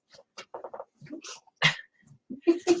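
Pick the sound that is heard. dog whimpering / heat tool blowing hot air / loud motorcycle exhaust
dog whimpering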